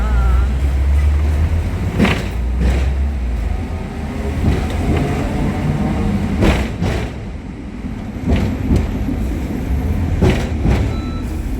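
A tram in Hong Kong rolls toward Happy Valley, with a continuous low rumble of the car, periodic rattles and clunks, and brief high squeals from wheels or bells.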